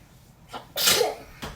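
A single person sneezes once, a sharp close burst after a short inhaled build-up, with a faint voice starting just at the end.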